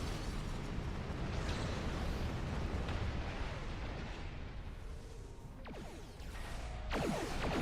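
Weapon fire and explosions in the space combat game Star Trek Online, heard as a continuous dense roar of blasts and rumbling booms with a few whooshing sweeps near the end, steady and fairly loud.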